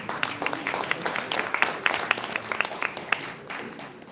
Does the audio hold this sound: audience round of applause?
yes